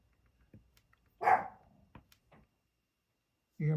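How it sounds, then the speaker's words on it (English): A pet dog barks indoors in a few short, loud bursts separated by silence, with a final bark cutting in at the end. "You hear my dog barking?"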